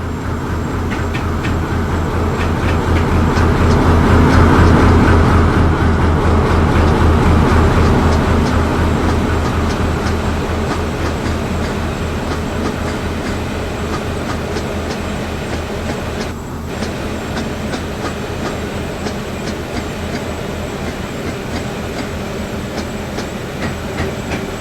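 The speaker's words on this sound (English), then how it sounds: "60011 leads the train into Fatherwell." Locomotive 60011 hauling a train into Fatherwell station, a steady loud rumble of diesel engine and rolling wagons with rhythmic wheel clatter throughout, swelling slightly near the start and then holding steady.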